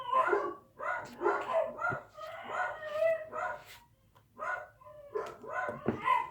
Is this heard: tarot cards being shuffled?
no